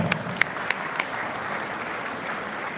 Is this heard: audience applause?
yes